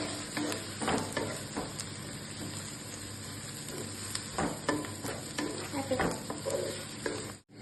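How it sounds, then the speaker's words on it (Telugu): Cinnamon, cardamom and cloves frying in hot oil for a chicken fry, a dense steady sizzle with occasional stirring scrapes and clinks, close and continuous before a brief cut at the end. "అలాగే దాల్చిన చెక్క, యాలకులు, లవంగ మొక్క వేసేసుకుందాం. ఫ్రై"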